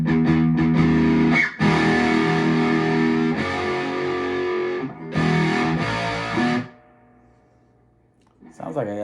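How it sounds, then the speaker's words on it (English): An electric guitar plays through a homemade single-transistor distortion pedal into an amplifier with reverb. Loud sustained distorted chords ring out in two long passages, then fade into a decaying tail before quieter playing returns. "Sounds like I got some reverb on the amplifier over there too"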